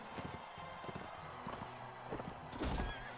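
A horse in the medieval battle game Mount & Blade: Warband lets out a whinny during combat, mixed with clip-clopping hooves and dull thuds, all fairly faint within the game mix.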